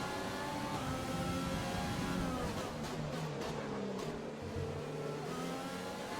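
Simulated F1 racing car engine from the F1 2020 video game, a loud continuous high-pitched whine that shifts in pitch through gear changes, with wheelspin and oversteer coming through a curve.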